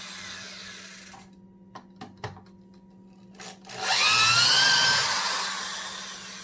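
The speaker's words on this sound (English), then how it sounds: "Let's back those out and then drill a hole." A Makita 6406 3/8-inch electric drill runs in reverse to back screws out of wood, starting with a few short clicks and taps, then a loud whining motor spin that holds for a few seconds, close and with no talking.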